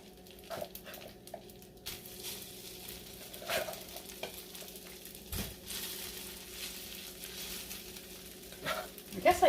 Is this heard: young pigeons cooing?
no